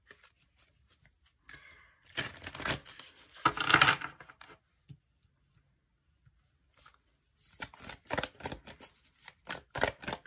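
Tarot advice cards shuffled in two bursts of quick papery riffling and flicking, near and fairly loud, separated by a quiet gap.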